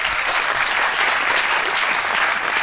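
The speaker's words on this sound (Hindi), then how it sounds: "वेरी गुड, तालियां।" Steady, dense applause from a live TV show audience, clapping evenly and loudly throughout without a break.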